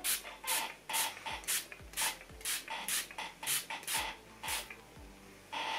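A series of short, crisp bursts of makeup setting spray, about ten of them in a fairly steady rhythm, close by with quiet pauses between each hiss.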